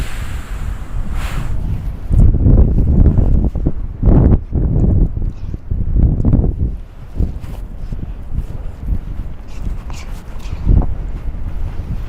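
Cold winter wind buffets the microphone on a Toronto beach, loud rumbling gusts rising and falling, with no talk.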